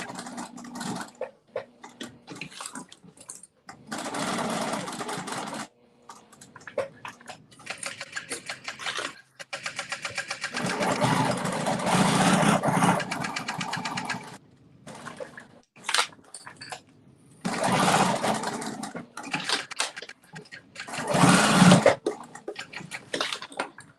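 A sewing machine stitches a wallet seam in several bursts of fast, buzzing needle rattle, stopping and restarting between short pauses, close and moderately loud.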